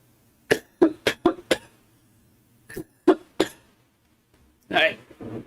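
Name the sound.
coughing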